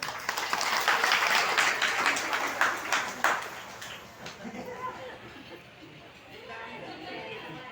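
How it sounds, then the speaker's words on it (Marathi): Audience applause at a Bhagavat katha gathering, a few seconds of lively clapping that thins out into murmuring chatter and quiet room noise. "टाळी वाजवा एकदा."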